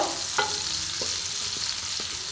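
Raw green tomato with turmeric and chilli powder frying in a pan for a prawn curry: a steady, close sizzle broken by a few light scrapes and taps of stirring.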